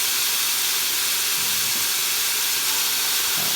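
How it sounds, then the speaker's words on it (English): Ground pork browning in a pan, a steady loud hiss of sizzling that runs unbroken throughout, close up with no talk. "Let's brown it down"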